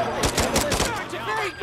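Rapid burst of automatic gunfire in the video game Warzone 3, four or five sharp close shots in quick rhythm followed by fainter ringing game sounds.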